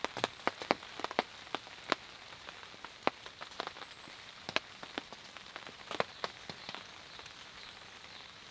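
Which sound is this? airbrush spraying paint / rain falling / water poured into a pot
rain falling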